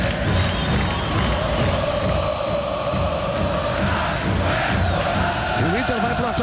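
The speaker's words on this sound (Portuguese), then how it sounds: "A torcida do Inter começa a gritar mais forte nesse princípio de segundo tempo." Internacional supporters shouting and chanting in a football stadium during a Sul-Americana match against Estudiantes, a dense, continuous crowd roar with swelling cries filling the whole stretch.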